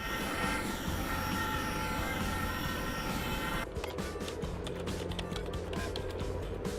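Super jets flying in an animated action movie make a loud, steady jet-engine roar that fills the whole clip, with a sharp change in texture midway as the sweep shifts.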